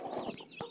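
A farm hen gives a few quick, soft clucks in close succession, brief and fairly quiet, with no voices.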